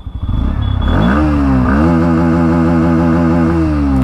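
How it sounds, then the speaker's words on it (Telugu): A 2024 Bajaj Pulsar NS 160 motorcycle's exhaust rumbles loud and close, rising in a quick rev and then settling into a steady, throbbing idle, with no one talking. "ఎగ్జాస్ట్ సౌండ్ విన్నారు కదా,"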